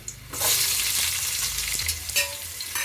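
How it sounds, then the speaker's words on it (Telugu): Long-sliced onions fry in a pan with cumin seeds for a vegetable kuska, giving a loud, steady sizzle with occasional stirring scrapes throughout. "ఇప్పుడు కొంచెం వేగుతున్నాయి కదండి"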